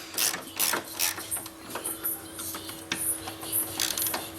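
A ratchet tightens 13 mm nuts on a Jaguar S-Type R engine during spark plug replacement, giving fast bursts of close clicking in several short strokes with brief pauses between.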